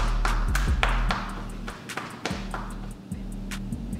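Sharp clapping smacks made by arching and clenching the body sound in a quick irregular series, close and fairly loud, with soft thumps between them and no talking.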